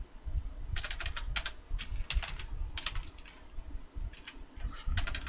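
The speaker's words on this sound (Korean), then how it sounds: "타이핑이 안 되나?" Typing on a computer keyboard in bursts of quick clicks, fairly close and steady, with a low background hum and no talking.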